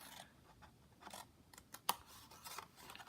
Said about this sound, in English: I'd like to cut a wedge from here down here.